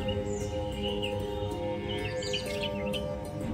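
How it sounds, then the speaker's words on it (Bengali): Birds call and chirp in short, bright phrases at a Shiv temple near Nababhat bus stand in Bardhaman, set over a steady low hum of background activity throughout. "ভিডিওর মধ্যে আমি ক্যাপচার করেছি কত সুন্দর পাখির ডাক"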